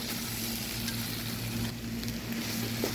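Tomatoes sautéing with ground masala in a pan for squid thokku, a soft continuous sizzle with a low steady hum and occasional faint stirring, no talking.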